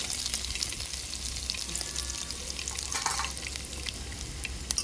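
Mustard seeds, cumin and crushed garlic sizzle and crackle in hot oil, a steady close frying hiss dotted with sharp popping of the seeds, with a brief stir midway.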